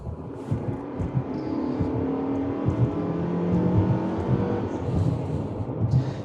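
A 2026 Mitsubishi Outlander Sport's engine drones loud and coarse under full throttle from inside the cabin, rising slowly and steadily as the SUV gathers speed.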